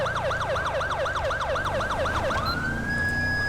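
Police car siren in the GTA V LSPDFR video game, a loud wailing sweep cycling rapidly over and over, then rising into a long steady tone near the end, over a constant engine rumble.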